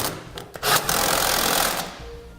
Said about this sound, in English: Next, we'll take a 3/4 inch socket and tighten all of our hardware.